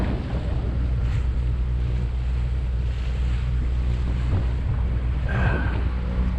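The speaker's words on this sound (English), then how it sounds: "fully exposed to the winds and waves of the Atlantic Ocean" Steady wind and rushing waves surround a sailboat on the open Atlantic Ocean on passage from Bequia to St. Lucia, a constant full roar with no voices.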